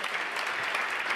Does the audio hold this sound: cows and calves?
no